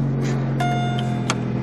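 AWD demolition derby car rolling off a trailer, its engine a steady low hum with a few light clicks and clanks on top, no one speaking.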